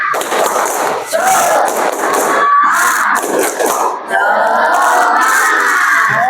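A primary school class in an Indonesian-language lesson claps out a rhythmic spirit chant, sharp dense clapping bursts with shouted voices, loud and close, briefly pausing before resuming.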